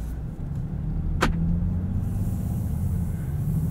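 A 2024 Land Rover Defender 130 Outbound gives a steady low engine and road rumble from inside the cabin, with a brief sharp click early on.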